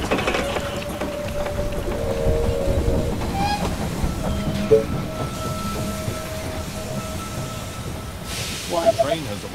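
Train pulling into a station in the strategy game They Are Billions, a steady rolling rumble with hissing and faint clattering, holding tones like brakes or a whistle, and a brief game chime near the end.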